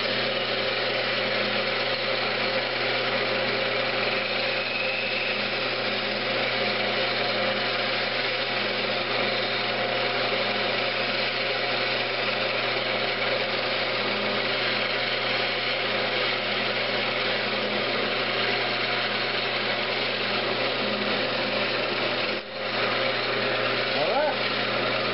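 A woodturning lathe runs with a constant high whirring drone as a skew chisel parts off a wooden Christmas ornament, the steady tone holding for the whole stretch before a brief disturbance near the end.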